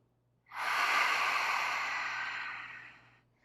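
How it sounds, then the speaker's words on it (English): A single long exhale during a gentle yoga stretch for the lower back, a soft, close breathy hiss that swells quickly, holds steady for about three seconds and then tapers off, with nothing else audible. "So breathe in, expand your lower back and your waist, and breathe out."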